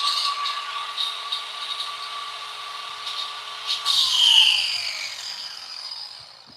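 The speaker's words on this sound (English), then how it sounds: "So I'm gonna hold the grinder over here." Grinder in a woodworking shop: a steady high whine running throughout, swelling louder around the middle before easing off, heard fairly close and alone.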